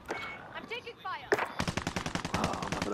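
Rapid bursts of shotgun gunfire in the battle royale game Warzone, a run of sharp, loud blasts after about 1.3 seconds, preceded by game sounds and mixed with chatter.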